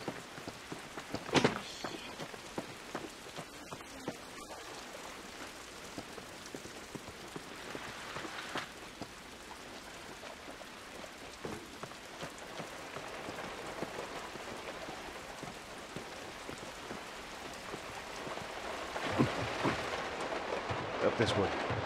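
Steady rain from The Last of Us falls on surfaces in a continuous soft patter, with scattered footsteps and occasional heavier drops mixed in.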